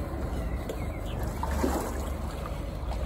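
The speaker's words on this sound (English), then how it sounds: "I'll just engage the port engine" Volvo Penta EVC engines on a Nimbus 405 flybridge boat running in gear, a steady broadband rumble mixed with churning water, continuous and fairly loud throughout.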